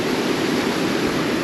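Water pours steadily over the broken Velliyur check dam on the Kosasthalai river, a dense, continuous rushing roar close by with no talk.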